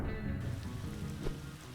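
Steady rain hiss from the strategy game Atom Zombie Smasher, a continuous broadband wash of drops on a surface holding at an even level for the whole stretch, with no voices over it.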